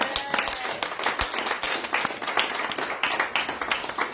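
Applause from a church congregation, a dense patter of many hands clapping steadily and fairly close, with no voices standing out.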